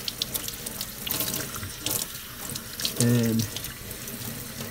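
Tap water running into a sink while blue hair dye is rinsed off, a steady close gush of water with splashing changes as hands move under the stream, a brief spoken word at the start.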